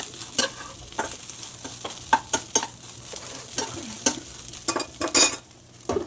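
Leftover idli pieces tossed with spices and salt in a pan, a spoon scraping and clacking in irregular strokes over a steady soft sizzle, close and fairly loud, no talking.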